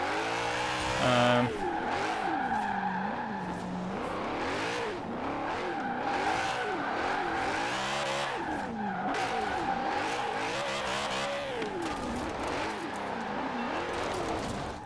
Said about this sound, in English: with the C650 AMG Black Series engine, which I think sounds good, especially in real life.